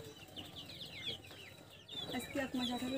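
Young layer hens, about a month and a half old, cluck in a poultry farm flock that disease has struck. Several birds cluck and squawk at once, fairly faint, with low murmuring voices underneath.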